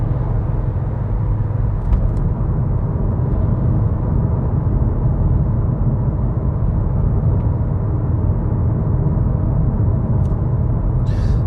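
A 2022 Audi RS3 Sportback Launch Edition's engine gives a steady, loud, low rumble that holds at an even level throughout, with no speech over it.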